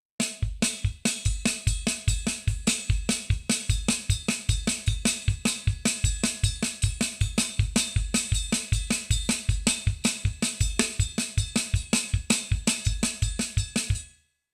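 Drum kit groove with the Ariaria pattern on the right cymbal, steady fast kick and snare pulse under bright repeated cymbal strikes, close and loud, ending abruptly.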